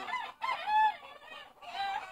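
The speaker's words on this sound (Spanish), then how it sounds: "Un gallo reproductor, ya tiene varias camadas en su haber." A breeding rooster at a fighting-cock farm in Peru gives a short, close, fairly quiet burst of clucking and strained crowing-like calls, with no talk.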